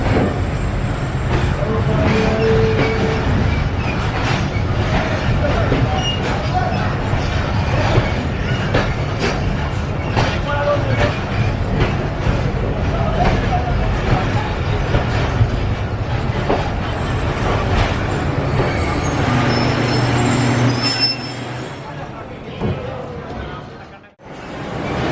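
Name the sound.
train departing and running, Shalimar Express Karachi to Rohri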